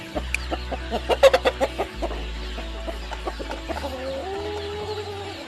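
Philippine-breed chickens cluck repeatedly in a quick run of short, fairly close calls, with a steady low hum running underneath.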